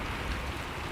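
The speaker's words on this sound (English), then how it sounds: "as the rain keeps tapping the window" Rain taps steadily against a window pane, a soft continuous patter with no gaps or voices.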